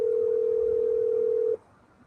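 A single steady phone call tone rings close and clear for about a second and a half from an unanswered call, then cuts off abruptly into quiet background hiss.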